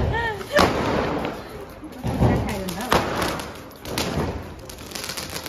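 Diwali firecrackers burst at a home celebration, a few sharp bangs spaced a second or two apart, under and between people talking excitedly.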